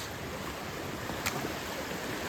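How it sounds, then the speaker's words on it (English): Floodwater of Ackerly Creek in downtown Dalton, Pennsylvania, swollen several feet above normal, rushes in a dense, continuous roar that fills the scene, loud and steady, with one faint splash partway through. "Water is so high and it's raging so powerfully that I can't even skip rocks"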